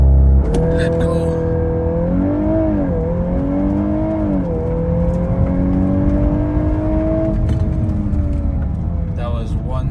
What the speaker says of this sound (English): Something about this launch control, it feels really brutal, especially after driving EVs.